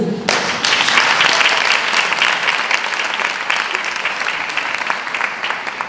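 An audience at a conference applauds, a dense, steady wash of many hands clapping that starts suddenly and carries on at an even level for several seconds.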